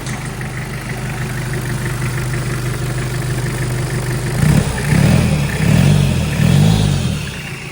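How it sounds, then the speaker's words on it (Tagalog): A Mitsubishi Pajero Field Master engine runs loud and rough without its intercooler fitted, a steady close drone that swells with a few revs toward the end; no talking. "Maandar na yung Pajero natin."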